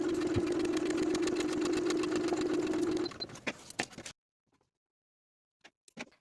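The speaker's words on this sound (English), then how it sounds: "Sew along the transferred lines from the outer edge to the point" A sewing machine stitches dress darts along marked lines, running as a steady, close mechanical whir for about three seconds before slowing and stopping, followed by a few faint handling clicks and near silence.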